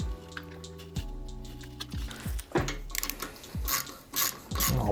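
Ratchet tightening a screw on a Peugeot 205 GTI rear axle, a series of quick mechanical clicking strokes repeated in bursts, close and clear, with no talk over it.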